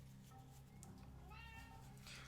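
A house cat meows faintly a few times in a quiet room, with soft background noise and a bit of low speech nearby.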